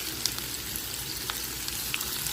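Onion frying in olive oil in a pan, a steady soft sizzle with scattered small pops and crackles, close and fairly quiet, with no voices.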